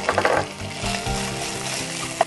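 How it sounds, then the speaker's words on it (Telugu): Onions hit hot oil with ginger garlic paste for a capsicum soya masala, giving a short burst of crackling followed by a steady sizzle, close and fairly loud, with a small clink near the end. "జింజర్ గార్లిక్ పేస్ట్ వేసాం నెక్స్ట్ ఆనియన్స్ వేయాలండి"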